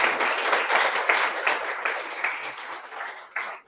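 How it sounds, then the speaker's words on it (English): A round of applause from the audience at a London Web3 meetup for the speakers, brisk clapping from a modest crowd that gradually thins and tapers off near the end. "I'd love to give them a round of applause."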